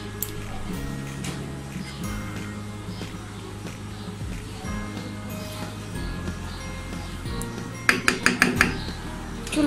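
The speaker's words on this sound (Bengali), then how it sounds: "আমি ঢেকে দিচ্ছি" A lid is set on a cooking pot of beef haleem, a quick run of rattling metallic clinks late on, over a steady low hum of kitchen background.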